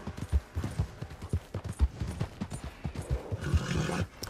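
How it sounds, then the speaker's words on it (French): Spurred horse galloping in Red Dead Redemption 2, a steady run of heavy hoof thuds drumming close and fairly loud, with game ambience underneath. "Je pique mon cheval et tout"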